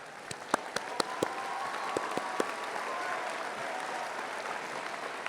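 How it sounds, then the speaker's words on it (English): A large audience at the 2015 John Jay College commencement applauds honored students, with a steady wash of many hands clapping and a few sharp, close claps standing out early on. "we give you a special round of applause for your academic and service achievements"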